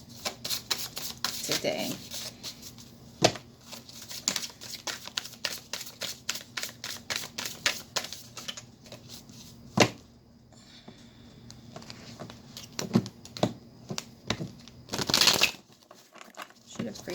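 An ACT card deck is shuffled by hand in rapid bursts of crisp papery riffles and clicks, close and fairly loud, with a brief spoken word partway through.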